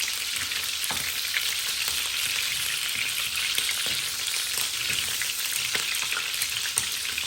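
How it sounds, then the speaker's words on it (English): Chicken gizzards frying in cooking oil, a loud dense continuous crackling sizzle close by, with small pops and bursts spread evenly throughout and no voices. "then we can fry them"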